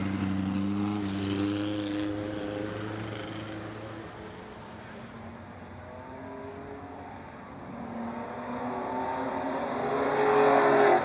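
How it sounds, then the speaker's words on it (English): A 1957 Vanwall Grand Prix car runs at the Goodwood Revival, its tonal engine note shifting in pitch as it passes, dipping away mid-clip and then swelling louder toward the end. "So that's Rob Hall in the Vanwall"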